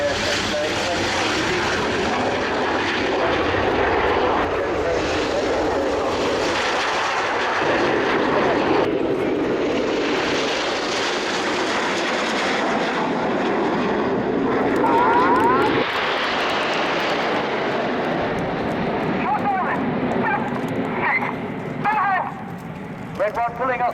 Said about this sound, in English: The jets arriving in big battle formation around 20 feet apart